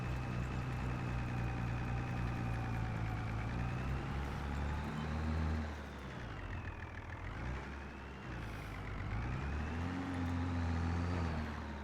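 A Fiat Agri tractor engine in Farming Simulator 25 drones steadily, its pitch swelling and sagging as the revs rise and fall, loud and close with a dip in the middle before building again.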